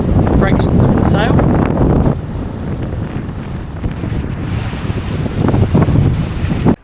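Strong Meltemi wind roars over the microphone aboard a sailing boat in the Aegean, the Genoa reefed to 75%, with steady loud buffeting and rushing water and waves along the hull throughout.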